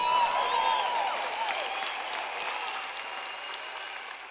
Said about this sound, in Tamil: தேவோட புத்திசாலித்தனத்துக்கு கைத்தட்டுங்கள்